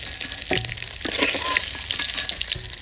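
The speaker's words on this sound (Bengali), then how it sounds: "একদম ব্রাউন কালার থেকে ভাজছি" Eggs fry in oil in a wok until browned, a continuous close sizzle with spatula scrapes and stirring knocks over the crackle.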